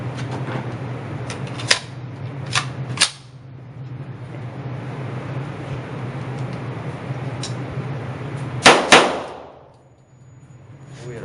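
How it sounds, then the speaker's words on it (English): A VMAC45 .45 ACP MAC-10 pistol firing: a few sharp, loud reports in a quick cluster, a stretch of steady background noise, then two more close bangs followed by fading quiet. "We'll do a little bit of rapid fire."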